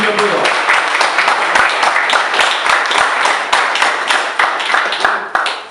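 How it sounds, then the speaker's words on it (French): Sustained audience applause fills a café, dense broadband clapping at steady volume, with sharper individual claps standing out and faint voices beneath, tapering slightly at the end. "On les applaudit encore."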